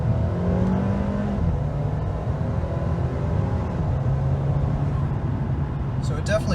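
A 2021 Mercedes-Benz GLA 250 4Matic in sport mode accelerating hard from 0 to 60, with a steady, loud engine drone and rising whir that continue throughout, while someone talks over it.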